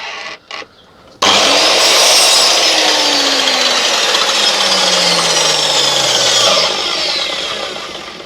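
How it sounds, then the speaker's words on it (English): A power saw trims a wooden frame piece up close: a couple of short taps, then a loud continuous buzzing cut that holds steady for several seconds and eases off at the end. "this one is only a millimetre longer, so I'm going to just trim this very slightly"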